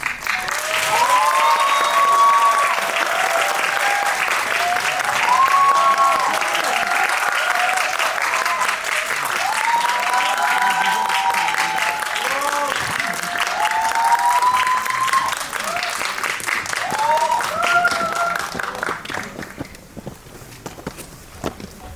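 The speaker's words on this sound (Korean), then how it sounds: "오늘의 게스트분들 큰 박수로 맞이하겠습니다." Loud, sustained audience applause in a cinema during a film screening talk event welcoming guests, dense continuous clapping with scattered whoops and voices, holding steady for about twenty seconds before thinning out at the end.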